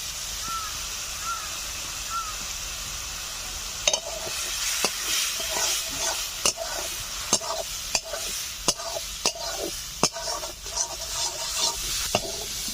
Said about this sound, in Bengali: নারকেলগুলো ভাজা ভাজা হয়ে যাচ্ছে।